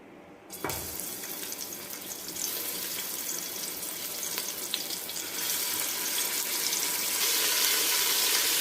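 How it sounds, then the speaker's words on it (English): Smoked beef hits a hot pot for Trinidad-style pelau, bursting into a loud, steady sizzle that builds and holds, bright and close with no talking. "we are going to first start off with the smoked beef."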